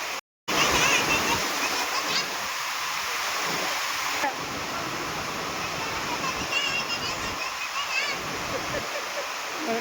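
Heavy rainwater gushing and splashing steadily during a downpour near farm crops, a dense continuous roar of flowing water; voices talk over it.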